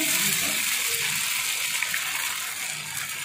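Ghevar batter poured into hot ghee, hissing and bubbling steadily up close, a continuous bright frothy sizzle that eases slightly toward the end.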